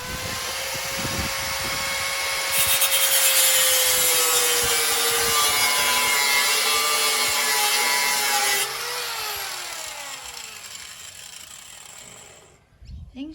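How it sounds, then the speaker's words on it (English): An angle grinder cuts through a stuck bolt in a loud, sustained whine that rises in intensity midway, holds steady for several seconds, then winds down as the disc slows, with rubbing and scraping at the start and end. "things you do when the bolts just don't unscrew. You just grind it."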